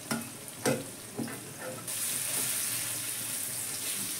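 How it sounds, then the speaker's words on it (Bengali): Ground cumin, chili, Kashmiri chili and turmeric cook in a pan for egg posto, opening with a few scrapes and clinks before a steady, bright frying hiss takes over, with no one speaking. "মশলাগুলো একটু কষে নেব।"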